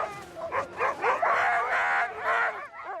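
Arctic sled dogs on a North Pole expedition bark, yip and whimper close by, a busy overlapping run of excited, whining calls that rises and falls without pause.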